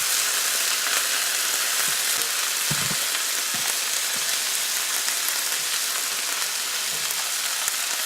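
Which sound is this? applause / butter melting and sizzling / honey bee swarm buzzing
butter melting and sizzling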